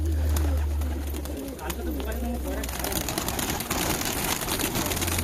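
Giribaz pigeons coo softly amid a busy outdoor backdrop, with a low rumble and people talking nearby throughout.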